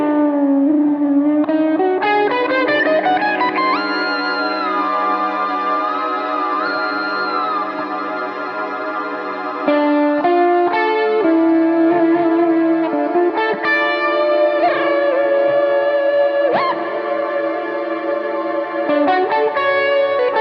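Sustained chords played through the ADPTR Utopia reverb plugin swell into lush, shimmering washes with long, echoing tails and chorused, slightly distorted tones, changing chords every few seconds and loud throughout with no speech.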